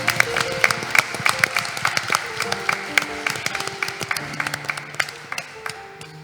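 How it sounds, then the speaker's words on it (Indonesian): Wedding guests at a Catholic marriage ceremony in a church break into sustained clapping, a dense patter of many hands that fades gradually toward the end. "Kita berikan tepuk tangan."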